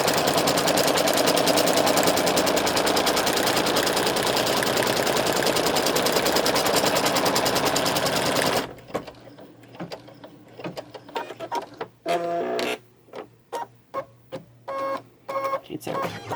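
Embroidery machine stitching a reference line onto stabilizer for a birthday badge, running as a loud steady rapid whir for about eight seconds, then stopping and starting again in short bursts.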